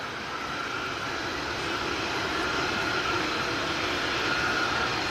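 An easyJet airliner's jet engine spools up at Manchester Airport, a steady loud roar and whine sustained from nearby and building slightly, with no talking.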